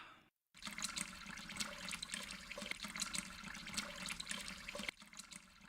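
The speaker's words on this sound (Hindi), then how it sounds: "मुझे पानी बहने की आवाज सुनाई दे रहा है रसोई घर से।" Water runs from a kitchen tap in a steady, moderate stream, starting after a brief silence and flowing continuously before easing slightly near the end.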